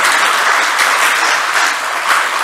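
Dense, steady applause from a large audience greeting the president at a Youth Creative Hub event in Aceh, loud and continuous throughout with no voices on top.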